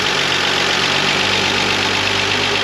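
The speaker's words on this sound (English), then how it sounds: "Got a good running engine now" A 1947 Ford jail bar pickup engine runs steadily after repairs to the fuel pump, carburetor, belts and wiring, a loud, close, even idle with a constant mechanical rumble and no voices.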